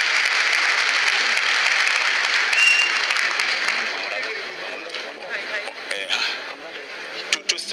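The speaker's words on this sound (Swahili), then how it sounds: "Situwapigie makofi jameni." Congregation in a church service giving a loud, dense round of clapping that swells early and slowly thins out toward the end, with voices mixed in under the applause.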